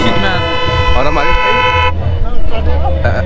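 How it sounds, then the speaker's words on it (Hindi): A horn blares loudly and steadily near the Assi Ghat in Varanasi, holding a long bright multi-tone blast for nearly two seconds while people talk over it in the foreground. "इसमें भी वो हॉर्न है बज रहा है"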